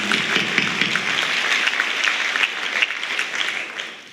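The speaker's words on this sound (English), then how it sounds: "let's give my team a round of applause" A steady round of applause from the audience at a school district's State of the District address, honouring the staff for the start of the school year, holds evenly and then tapers off at the end.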